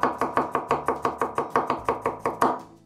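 A knife finely chops garlic on a cutting board, with about fourteen quick, evenly spaced, crisp chops close by, slightly accelerating toward the end, and no talking.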